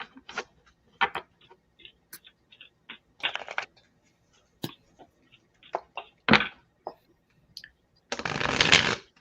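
Tarot cards being shuffled and handled, a series of soft irregular riffling and flicking bursts, with a longer riffle near the end, close and quiet in a still room.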